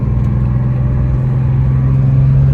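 A classic Porsche without power steering drives curvy North Georgia mountain roads, its engine a steady, loud mid-range drone with a firm low hum throughout.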